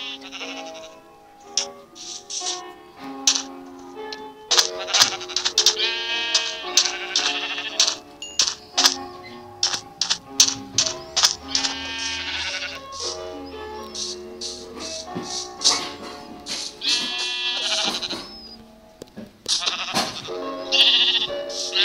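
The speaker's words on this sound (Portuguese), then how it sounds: "Ah, tem algumas ovelhas ali." Sheep in a survival video game built around an earthen house bleat over and over, loud and close, with many clipped repeated calls across a long stretch.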